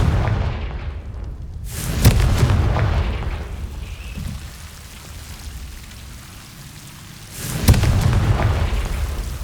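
Confringo fire spell explosions in the video game Hogwarts Legacy: two sharp booming blasts several seconds apart, each followed by a rumbling crackling tail, over low ambient game noise.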